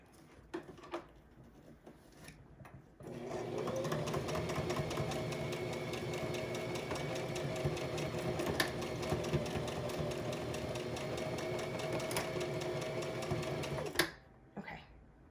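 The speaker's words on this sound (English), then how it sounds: "I'm going to stitch the other side" Sewing machine stitching the second side of a homemade fabric face mask with a fitted nose wire, a steady close whirring run of about eleven seconds after a few short bursts, ending abruptly.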